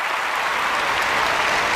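An audience applauds steadily and evenly in a theatre, with a dense wash of clapping that holds throughout.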